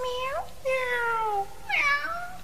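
Three newborn marmalade kittens meow in a radio drama sound effect, giving three separate high, wavering mews of falling and rising pitch in close succession, near and clear with no talking over them.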